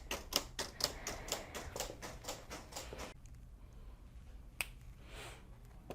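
A Silhouette CAMEO cutting machine slicing Siser metal HTV makes a rapid run of sharp, regular ticking clicks for about three seconds, then goes nearly quiet except for one isolated tick.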